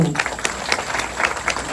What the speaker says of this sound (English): I just want to have you all give yourself a round of applause